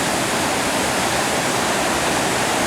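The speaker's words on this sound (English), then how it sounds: "A beautiful living waterfall." A mountain waterfall in Norway roars steadily up close, a dense unbroken rush of falling water filling the whole clip with no voices.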